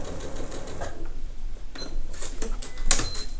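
A sewing machine runs a diagonal quilt seam in short, close bursts of rapid stitching with small clicks and pauses, no one talking.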